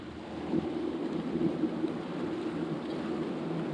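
Rain shower moving in over Lake Fork, a steady broadband hiss of falling rain with a low rumbling undertone, continuous and moderately loud, with no voices.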